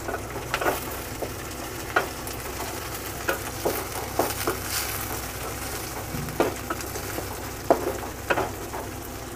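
Curry leaves and green peas fry in a small amount of oil for sundal, giving a continuous crackling sizzle with frequent sharp pops and stirring scrapes throughout, close and fairly loud, without speech.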